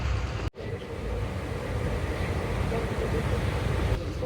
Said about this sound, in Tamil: மேல ரோல் காயில் ஏற்றி ட்ரெயின் போகுது.